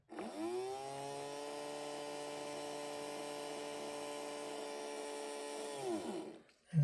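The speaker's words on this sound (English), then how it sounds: "this person in there should be operating a chainsaw" A small motor in a model figure's toy chainsaw whirs up and holds a steady, buzzing chainsaw-like drone for several seconds, then winds down abruptly.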